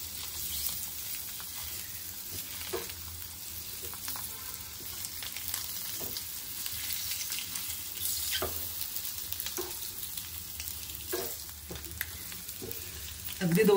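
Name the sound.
eggs frying and being stirred in masala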